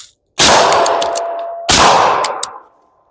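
Two sharp, loud gunshots at a shooting range, a little over a second apart, each with a ringing metallic clang and a reverberating tail that fades out.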